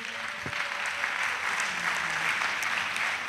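An audience at a national missionaries' annual retreat in Côte d'Ivoire breaks into steady, dense clapping that fills the room evenly for a few seconds, with faint murmuring beneath.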